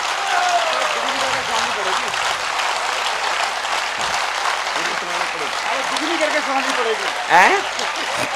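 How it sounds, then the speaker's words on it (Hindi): A crowd at a live patriotic Hindi poetry recital claps continuously in a dense wash of applause, with someone talking loudly over it the whole time. "इतनी तालियां बज गई"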